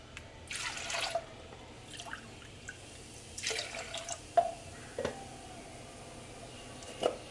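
Water splashes into a pot of lentils in a couple of short, quiet pours, followed by scattered drips and small plinks.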